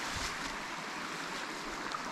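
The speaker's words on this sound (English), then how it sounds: "So you get the nice creek sounds" A Georgia creek flows beside a cleared wilderness campsite, a steady soft rushing wash of water heard alone and fairly close.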